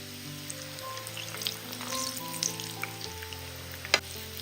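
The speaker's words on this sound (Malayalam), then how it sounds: "മീഡിയം ഫ്ലെയിമിൽ ഇട്ടിട്ട് വേണം ഇത് ഫ്രൈ ചെയ്തെടുക്കാനായിട്ട്" Uzhunnu vada deep-frying in hot oil over a medium flame, a steady close sizzle and bubbling with light scattered pops and a brief clink near the end.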